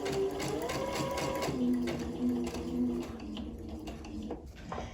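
A Babylock sewing machine stitches a buttonhole on a shirt, its steady mechanical whir running continuously with shifting motor tones, close and moderately loud throughout.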